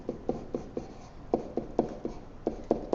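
Pen writing on paper: quick, light scratching strokes in an uneven rhythm, close and quiet, with no talking.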